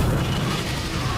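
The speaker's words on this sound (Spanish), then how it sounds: "La batalla inició con el disparo del Gran Cañón hacia la entrada del río Lico." Ottoman Great Cannon bombarding the walls of Constantinople near the Lycus river, a heavy, sustained rumbling boom that fills the clip with dense low-end roar and no pause.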